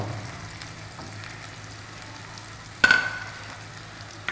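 Onions frying in a pan while making a pumpkin (kaddu) dish, stirred with a wooden spoon; a low steady sizzle, then one sharp clatter of stirring near the end, no voices.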